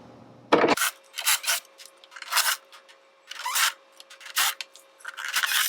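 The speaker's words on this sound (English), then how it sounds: "for the sake of time, I'm going to use my impact gun" An impact gun backs small screws out of the panel on a Craftsman belt-drive garage door opener, heard up close as a run of short, rasping whirring bursts with brief pauses between them.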